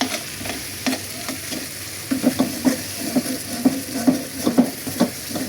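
Okra stir-fried in a pan on a stove, with a steady background sizzle and a regular series of soft scraping stirs from a spatula, close and moderately loud, with no talking.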